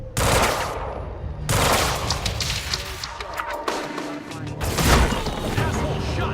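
Sustained automatic gunfire and explosions in the video game Quantum Break, loud dense bursts of shooting with heavy booms, overlapping with someone shouting.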